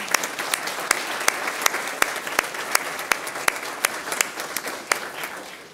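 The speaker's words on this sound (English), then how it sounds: "We'd like to also give you a round of applause for what you do to support your children." An audience at a school district governing board meeting applauds students' family members, a steady wash of many hands clapping with a few sharper, closer claps standing out in a regular rhythm.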